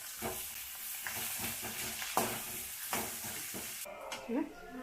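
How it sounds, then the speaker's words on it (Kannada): Onions frying in a pan for quick garlic pepper rice, a soft sizzle broken by repeated scraping stirs of a spatula, close and fairly quiet, with no talking. "ಈ ಥರ ಫ್ರೈ ಮಾಡಿಕೊಂಡು ನೆಕ್ಸ್ಟ್ ಈರುಳ್ಳಿ ಹಾಕ್ಕೊಂಡು ಈರುಳ್ಳಿ ಬೇಯೋವರೆಗೂ ಬೇಯಿಸ್ಕೋಬೇಕು"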